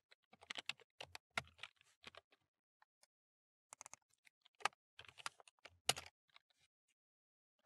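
Keystrokes on a computer keyboard typing a cell range into an Excel formula, heard as quiet clustered clicks in irregular bursts with short pauses between them, close and alone.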